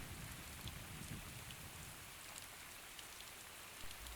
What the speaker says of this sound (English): Spring rains are here. A healthy shower is essential to flowering plants, new growth, the cycle of life.